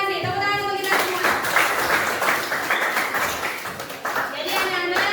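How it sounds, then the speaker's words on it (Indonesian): Classroom applause from a group of schoolchildren, a sustained burst of clapping filling most of the moment, with children's voices heard before and after it. "Tepuk tangan untuk kita semua."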